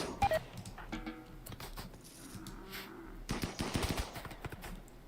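Rimworld firing squad gunfire bursts out as a dense volley of rapid shots near the end of the clip, after quieter game sounds and short tonal beeps.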